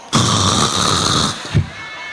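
A voice imitates snoring with one long, rough, rattling drawn-in snore followed by a short snort, close and loud with no other talk.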